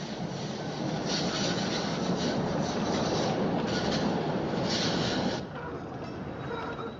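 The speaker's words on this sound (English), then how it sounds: "the train or the tram" Train or tram rolling along a track, heard through video playback as a steady, loud rumble with rubbing, rattling wheel noise that drops slightly in level near the end.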